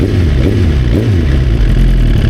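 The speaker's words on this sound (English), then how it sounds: "Try to roll the bike, and this is with barely any gas." A Suzuki GSX-R motorcycle engine runs close and loud at barely any throttle, a steady low rumble with a slight swell in pitch partway through as the bike begins to roll.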